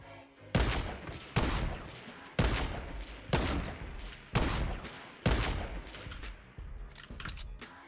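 Fortnite gunfire echoes in a battle royale match, six or seven heavy separate shots spaced about a second apart, each a sharp crack followed by a decaying boom, moderately distant.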